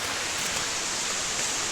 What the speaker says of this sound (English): Got a beautiful waterfall.